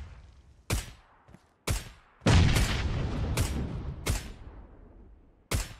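An SLR rifle is fired while aiming down the scope in a video game. About six loud, sharp shots come at irregular intervals, each leaving a short ringing tail, and one longer rumbling burst falls near the middle.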